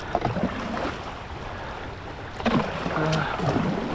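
Rapids on an Indiana river rush past a kayak, a broad steady wash of moving water with gusty wind buffeting the microphone and a few paddle splashes and knocks, close and moderately loud.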